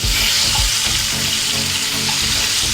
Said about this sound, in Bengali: এবার ওই একই তেলের মধ্যে আমি দিয়ে দিচ্ছি একটা বড় সাইজের টমেটো কুচি